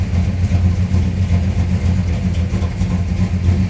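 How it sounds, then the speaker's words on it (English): A flooded 350 Chevy V8 idles steadily and close by, a continuous low rumble with an even, unbroken rhythm and no voices over it. "I'm gonna let it idle for about 5 minutes"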